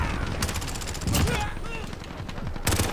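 Gunfire in Call of Duty Modern Warfare on the Shipment map: repeated bursts of rapid shots, loud and close, with a heavy burst near the end, over a busy, chaotic match.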